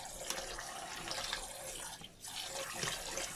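Raw chicken is rinsed under a running kitchen tap. The water splashes and gurgles steadily at close range, with brief shifts as the meat moves under the stream.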